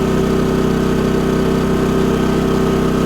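A Firman WH3200iE dual fuel generator, running on propane or gasoline, drones at a steady close hum with a constant pulsing engine rhythm throughout.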